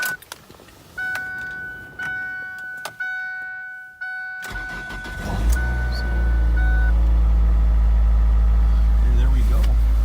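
A Ford Focus in arctic cold cranks and catches, the engine firing up and settling into a loud, steady idle after some earlier clicks and electronic beeps from the car.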